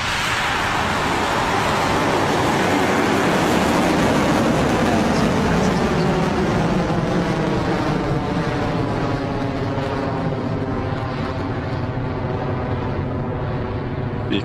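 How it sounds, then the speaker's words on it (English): Electron rocket lifting off, a steady broadband roar that holds for several seconds and slowly fades and thins as the vehicle climbs away into the distance. "And we have liftoff."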